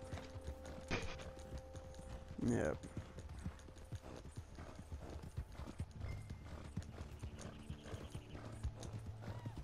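In Red Dead Online, horses trot with a steady clip-clop of hooves, carrying guards along a road. A short whinny breaks in partway, and brief speech comes over the game sounds.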